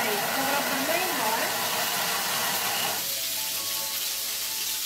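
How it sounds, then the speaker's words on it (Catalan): A kitchen blender runs at speed 5 chopping red pepper, giving a steady, loud, high whirring roar that drops in tone about three seconds in and then keeps running at an even level. "anem a triturar i posem 5 segons"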